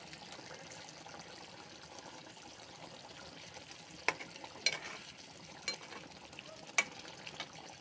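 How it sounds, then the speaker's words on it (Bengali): Chopped coriander stirred into a fish and onion curry frying in a pan: a faint, steady sizzle with a few sharp scrapes and knocks of the spoon scattered through the later seconds, no voices. "আমি এখন ধনেপাতা কুচি দিয়ে দিলাম।"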